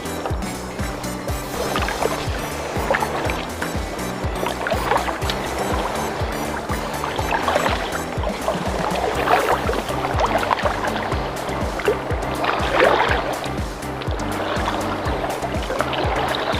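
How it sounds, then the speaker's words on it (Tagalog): Waves slap and wash steadily around a small fishing boat during lure casting, forming a continuous, fairly loud churn of water with no talk. "Lakas na pati ang alon."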